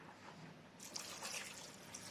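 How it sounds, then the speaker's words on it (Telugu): Water trickles and splashes steadily into a cooking pot of amaranth leaf stew, a soft continuous pouring sound with faint drips, with no voices. "కొంచెం వాటర్ వేసుకుందామండి."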